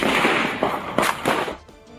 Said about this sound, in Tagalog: Dinig ang magkakasunod na putok ng baril nang mauwi sa engkwentro ang operasyon ng pulisya.